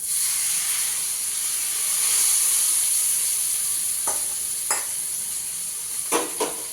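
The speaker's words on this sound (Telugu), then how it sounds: "వేసి మంచిగా కలుపుకుందాం అంతా." Oil tempering is stirred into tomato pickle, giving a soft hiss with a few brief scraping stirs of a spoon near the end, close and without speech.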